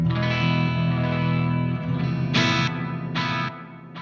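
Tape-echo delay from a Strymon guitar pedal, sustained guitar chords ringing with smeared repeats that trail off, plus bright bursts of strummed notes echoing near the end; steady, fairly loud, no voices.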